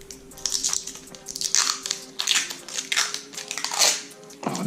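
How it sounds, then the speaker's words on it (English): A plastic protective cover is peeled off a BMW wheel centre hub badge, giving irregular crinkling and crackling bursts up close, rising and falling over several seconds with a faint steady hum behind. "so you just remove this cover off it"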